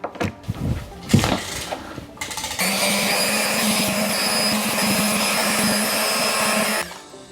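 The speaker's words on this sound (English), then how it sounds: "I'm gonna use this super cheap palm sander." A cheap electric palm sander runs steadily against a rusty old blacksmith's knife blade, a loud continuous buzzing grind after a few seconds of handling clatter, then cutting off near the end.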